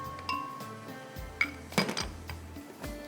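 Six garlic cloves dropped one after another into a bowl of salted spice mix for baked chicken, giving a few light, close clinks and taps against the bowl with quiet handling noise between them and no talking.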